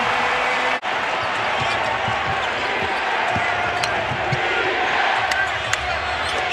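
A basketball arena crowd in Portland roars during a Trail Blazers versus Miami Heat NBA game, a steady, dense wash of cheering with scattered sharper shouts and thumps throughout.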